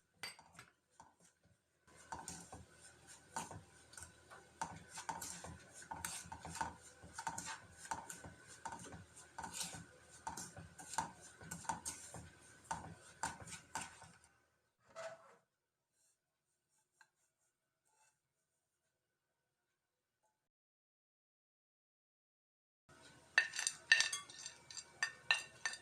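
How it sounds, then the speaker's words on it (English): Semolina and powdered sugar being mixed in a hot pan, rapid rhythmic scraping and clinking of a spoon against metal for about thirteen seconds, a pause in near silence, then a short burst of stirring resumes. "Now add the powdered sugar and give a good mix."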